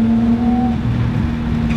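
A 1983 Toyota Celica fitted with a 2.5-liter single-turbo 1JZ inline-six holds a steady, loud engine drone with strong low harmonics, close by, with no voices.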